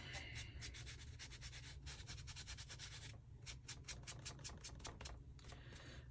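Transfer paper being rubbed off an altered-book journal page, a close, soft, dry rubbing in quick repeated strokes, steady bursts broken by a short pause, with no talking.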